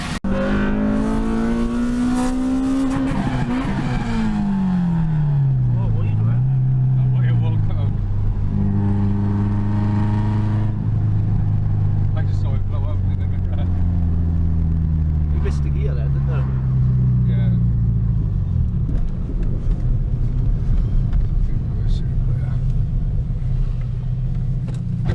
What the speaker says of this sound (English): Now let's go on a test drive.